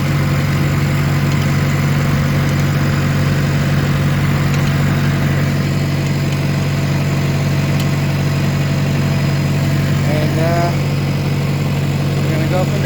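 A John Deere 450C track loader's diesel engine runs loud and steady, holding a constant drone throughout with a few brief rattling shifts near the end as it goes into first gear.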